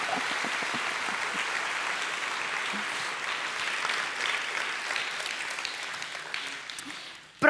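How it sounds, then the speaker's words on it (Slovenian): Loud, sustained applause from an audience at an anniversary celebration of a sheltered workshop centre, an even wash of many hands clapping, heard from a little distance, that tapers just before a sharp knock at the end. "Si zaslužijo glasen aplavz"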